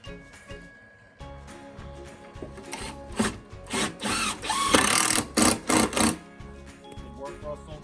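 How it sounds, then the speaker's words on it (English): A power driver sinks screws into wood while building a sofa table, giving several short whirring bursts that grow louder toward the middle, mixed with rubbing and handling noise, while people talk nearby. "Keep it up. Drive those screws in."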